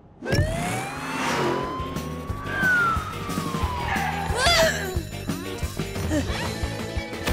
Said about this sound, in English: Uncle Bill, could you put on the siren, please?